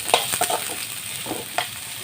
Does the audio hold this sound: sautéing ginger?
yes